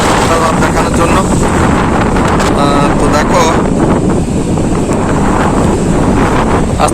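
Strong wind and rain at Shankarpur sea beach, a loud continuous roar of gusts buffeting the microphone with surf beneath, and a voice speaking over it.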